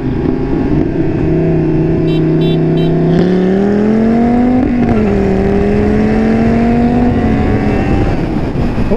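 A 500-horsepower Dodge Viper accelerating hard, a loud, close engine roar that climbs in pitch through the gears with a brief dip at each shift.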